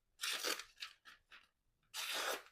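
A Core Edge OTF knife slicing through magazine paper: two long ripping tears bracketing a few short crinkly cuts, close and fairly loud, with no voices.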